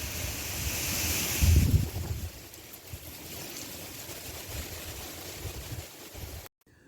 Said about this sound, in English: You can hear the wind rumbling outside